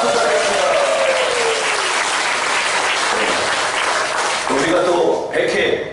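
Audience applause at a church memorial service in Pyeongtaek: loud, sustained clapping from a congregation fills the space, with a voice speaking over it partway through and again toward the end.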